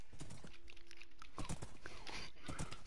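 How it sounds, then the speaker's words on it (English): Hoofbeats of a horse running in Minecraft, a steady clip-clop rhythm of repeated thuds with a brief tonal hum early on. "My horse is running"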